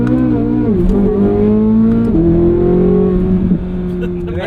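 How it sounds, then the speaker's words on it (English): A 2023 Chevrolet Corvette Z06 engine revs up high, a loud, close, harmonic-rich tone climbing and holding in pitch, then dropping briefly before rising again, with a quieter tail at the end. "I think there's so much charisma and character to a car that you can rev out."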